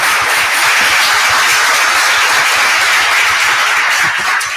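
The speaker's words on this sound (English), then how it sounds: "let's give our panelists a round of applause" A conference audience applauds the research panelists, dense loud clapping from many hands, steady and continuous throughout.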